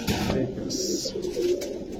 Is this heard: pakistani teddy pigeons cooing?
yes